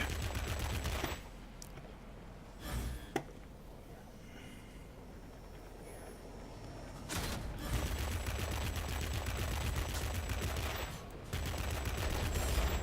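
Aircraft machine guns fire in World of Warplanes during a dogfight, with long sustained bursts of rapid gunfire broken by short pauses, loud and close over a steady engine drone.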